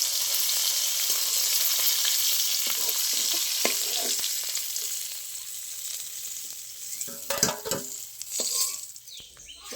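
Browned hilsa fish heads fry in hot oil with a steady, close crackling sizzle, broken by sharper pops and scraping stirs toward the end.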